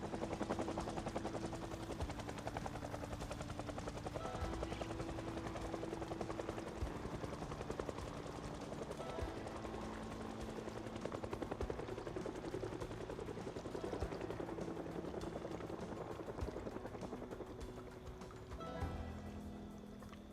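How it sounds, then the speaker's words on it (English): A helicopter from a Project Zomboid event drones on at length, a low rhythmic rotor hum with shifting pitch and a crackle of rapid gunfire mixed in, fairly faint and steady the whole time. "I think that's only the 4th helicopter event we've had, by the way."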